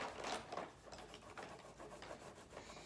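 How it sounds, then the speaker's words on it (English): A pen or pencil scratches a short line across card stock for a handmade craft, a soft close rubbing stroke that repeats in brief passes with no voices. "So now I'm going to draw a 1/2 inch line at the top and at the bottom."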